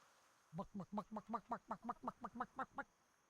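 A chicken in World of Warcraft clucking in a quick, even series of about twelve short pulses, fairly close and clear with no talk over it.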